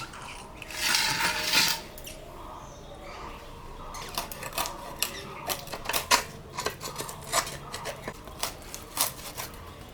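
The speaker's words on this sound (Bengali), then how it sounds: "মাছটা আমি কাটবো" A fresh magur catfish is cut with a knife: a rough scraping burst comes first, then a run of sharp, irregular clicks and chops against a board, close and moderately loud.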